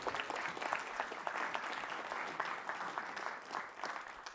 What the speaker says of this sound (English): Let's give those Anders a round of applause.